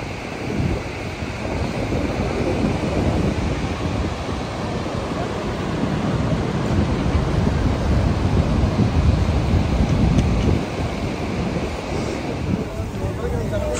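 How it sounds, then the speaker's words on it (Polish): The Niagara River plunges over the brink where the falls begin, producing a constant, dense, loud rushing roar of water with gusty wind noise and no distinct voices. "A tutaj rzeka Niagara właśnie spada w dół. Tu się zaczyna wodospad."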